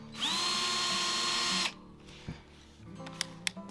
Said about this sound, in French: Pour pré-percer la carrosserie, c'est plus facile.